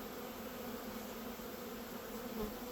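Honey bees hum in a dense, continuous drone during a hive inspection of a small split colony before winter, close and steady with no speech.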